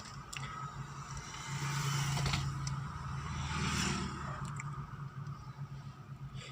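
A low, quiet engine hum from a car creeping forward during a beginner's first driving lesson with the clutch pressed, swelling slightly midway, then easing off.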